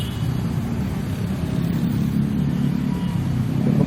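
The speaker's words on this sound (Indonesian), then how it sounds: "Sangat padat lalu lintas guys." Busy night traffic on Jalan R Sukamto in Palembang is picked up from a small drone flying in the wind, a steady low rumble of engines that holds constant and swells slightly toward the end.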